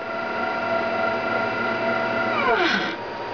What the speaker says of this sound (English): that noise is not any gear drag or anything like that, it's just the stepper motor driving.